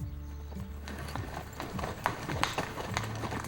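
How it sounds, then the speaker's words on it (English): Several horses clip-clop steadily along a forest trail near Sheep Falls at the southwestern edge of Yellowstone, with a brief whinny and faint murmuring voices in the background. "Anxious horses push forward as the group winds into the lush forest area"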